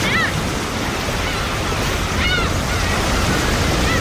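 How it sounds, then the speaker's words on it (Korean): Ocean waves breaking on a shore, a steady full-band wash of surf that swells slightly in the second half, with faint bird-like chirps above it and no talk. "파도 치는 소리"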